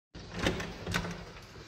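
A door opening or closing: a sudden onset, then a sliding scrape lasting over a second with a couple of louder knocks along the way, close and fairly quiet, without speech.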